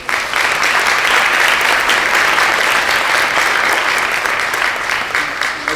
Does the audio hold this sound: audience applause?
yes